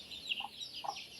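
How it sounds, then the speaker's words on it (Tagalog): Backyard chickens cluck nearby, giving two or three short, soft calls over a quiet outdoor background. "Yan ang mga manok ko."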